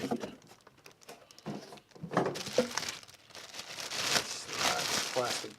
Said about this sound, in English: Slide the plastic bag off